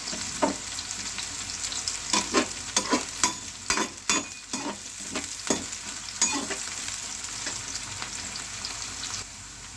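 Onions cut in long slices fry in a pan for spinach and potato bhurji. A continuous sizzle runs under repeated scraping stirring strokes, close and fairly loud, with no talking.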